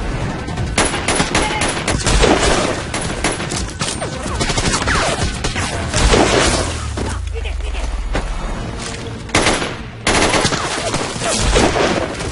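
Gunfire from a war movie, with dense, continuous bursts of rapid shots and heavy impacts filling the scene loudly while voices break through occasionally.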